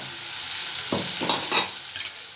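Spiced sprouted cowpeas stir-fried in a pan, a steady close sizzle with a few scraping stirs of a utensil, heard alone with no voices.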